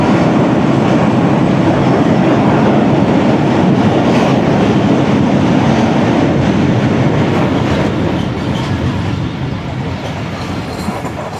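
Pak Business Express train running between Rohri and Karachi toward Hyderabad, heard from on board as a loud, continuous rumble and rolling wheel noise that fades slightly near the end.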